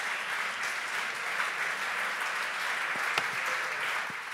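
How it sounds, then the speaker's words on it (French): Audience at a French housing conference applauding the panelists, a full, steady roar of clapping that holds throughout with a few sharper claps near the end. "oui, applaudissez-les"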